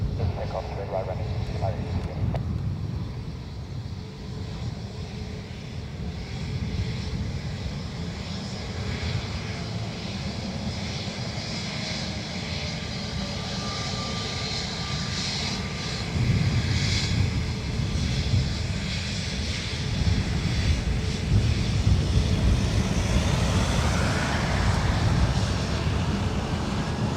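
A Ryanair airliner takes off from Dublin Airport, a broad engine roar that swells louder toward the end, with a voice talking over the noise for much of the time.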